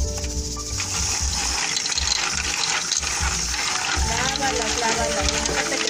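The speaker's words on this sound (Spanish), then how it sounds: "las habas sí se tienen que lavar, como el frijol" Fava beans being washed in water, a steady loud rush of running tap water with sloshing and rattling of the beans, continuous for several seconds while a person talks over it.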